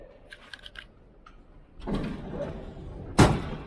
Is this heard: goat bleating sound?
no